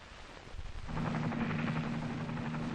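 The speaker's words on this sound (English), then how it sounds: "Three hours later, an ARVN helicopter landed." An ARVN helicopter lands in 1963 Vietnam, recorded on vintage 16mm film. Its rotor swells in over the first second into a steady, droning thrum with a low pulsing hum, somewhat muffled and distant.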